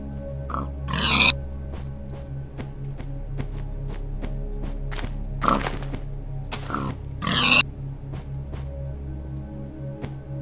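Pigs in Minecraft Alpha 1.1 give three separate oinking grunts, spaced a few seconds apart over a steady low game background hum.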